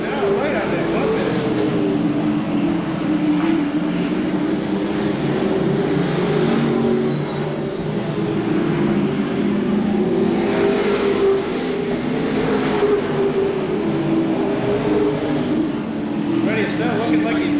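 Stock cars racing at Seekonk Speedway during a weekly race, their engines roaring steadily as the field battles side by side, with a commentator talking throughout over the continuous motor noise.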